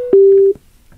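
A Braven Ready Prime Bluetooth speaker plays its Find Me locator sound, a loud steady electronic tone lasting under half a second and framed by short clicks, then quiet.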